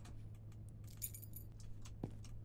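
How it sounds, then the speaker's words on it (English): Car keys on a kitchen table in a horror video game give off a faint, light jingle of small metallic clinks, heard as a few quiet taps over a low steady hum with no talking. "There's the car keys on the fucking kitchen table."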